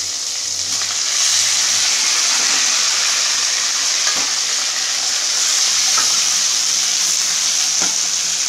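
Tomatoes fry loudly in a pan for radish sambar, a dense, unbroken sizzle close up with faint stirring scrapes throughout.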